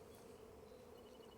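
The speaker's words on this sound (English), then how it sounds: "the bees are really busy" Honey bees buzz around their hives on an early spring day, a faint, steady hum of many wings at a distance, ending with a brief sharp noise.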